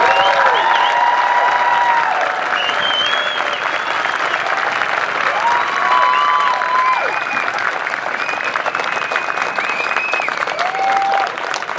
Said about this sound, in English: Please join me in giving the 825 graduating class a final round of applause.